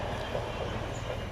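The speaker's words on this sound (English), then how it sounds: "That is a long, long train." A long freight train hauling car transporter wagons rolls past as a steady, fairly quiet rumble with faint rail clatter, no voices over it.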